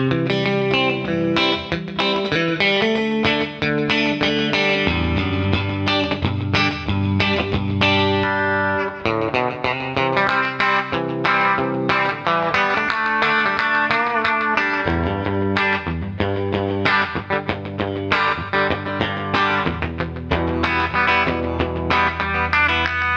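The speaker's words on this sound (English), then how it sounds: "Nashville setting is using a Tweed 112, so think early Fender, a compressor pedal, and then a delay running at 160 milliseconds." An electric guitar plays through a Vox ToneLab Nashville preset modeling a Tweed 112 amp with compressor, 160 ms delay and plate reverb. The twangy, chordal playing is clean and continuous, with echoing repeats and no voice.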